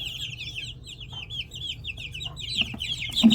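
Ducks in a screened pen give repeated nasal quacking and chattering calls, fairly close, with a few louder calls near the end and no speech.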